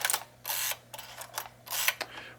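A Fuji GW690 medium-format film camera is wound with its film lever to close the shutter in T mode, producing several close, dry mechanical ratcheting strokes separated by short pauses.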